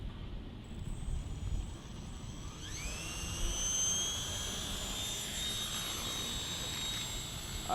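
A Walkera 180Z auto-stabilizing RC helicopter flying outdoors in wind, its thin high motor whine rising and sliding in pitch over a soft breezy background, moderately close with no talking.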